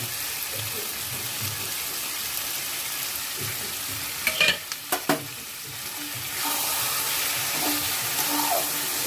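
Mustard paste and chopped tomato fry in a pan with a steady sizzle, a few sharp utensil scrapes and clinks partway through, and the frying grows louder and brighter near the end.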